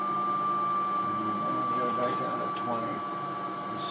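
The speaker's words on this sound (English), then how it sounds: "So that's how loud this pump is" A Player-Care vacuum pump kit runs at a steady level, giving a constant mechanical hum with a sharp whining tone. Someone talks over it.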